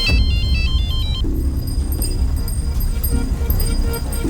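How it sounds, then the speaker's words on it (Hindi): A mobile phone rings with a bright repeating electronic ringtone, several short tone bursts close by, followed by lower tones, while voices talk over it. "दीपक भाऊ, फोन आ रहा है आपका"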